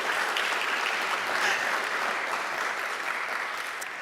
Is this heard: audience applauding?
yes